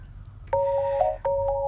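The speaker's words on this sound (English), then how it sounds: "That's the sound of the phone ringing from the phone" A telephone rings with two electronic warbling bursts, the second cut short, sounding somewhat muffled as if coming from another room, with no speech over it.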